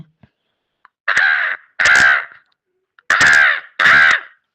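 Four loud, harsh crow caws, a pair then another pair after a pause, close and clear with nothing else around them.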